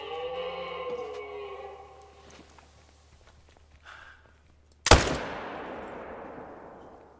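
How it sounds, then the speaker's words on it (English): A single loud rifle shot fired at a bull moose in a hunting video game cracks sharply, then rings out in a long decaying tail after several seconds of quiet, tonal game ambience. "Let's just shoot him."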